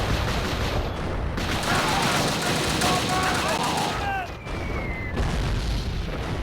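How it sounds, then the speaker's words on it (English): Sustained machine gun fire in a PSP video game, a dense continuous roar of rapid shots with booming impacts, loud and close throughout, with a brief dip before resuming. "Watch the machine gun fire!"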